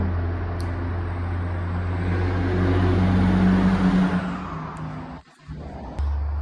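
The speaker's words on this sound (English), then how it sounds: "there was a huge truck driving by, and I heard that for real" A huge truck drives past outdoors, its low engine rumble building to a loud peak and then fading, with a brief sharp knock near the end.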